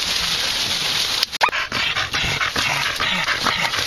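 Hunting dogs on a night possum hunt in Christchurch, New Zealand, panting hard and whimpering close by, with a sharp knock midway and rustling in the background.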